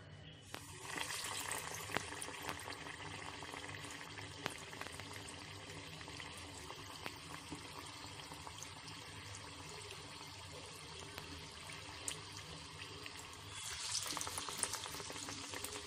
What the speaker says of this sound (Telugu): దీంట్లో మనం 1 బై 1 బజ్జీ వేసుకుందాం.